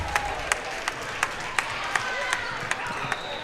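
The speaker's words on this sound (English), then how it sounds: "that may have been the loudest applause we've heard in this gym this week" Crowd in a high school gym at an Alabama girls' basketball tournament game, Loretto versus Cordova, making a steady roar of cheering and applause with sharp, regular claps standing out.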